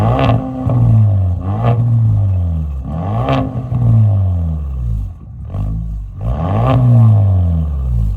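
A Ford Maverick with the 2.0 engine and an aftermarket exhaust is revved in several rising and falling bursts, a close, throaty drone that climbs and drops in pitch with short pauses between pulls.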